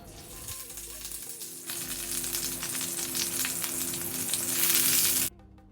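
Bajji chillies frying in coconut oil in a kadai sizzle and crackle steadily, growing louder and busier before cutting off abruptly near the end, with no talk.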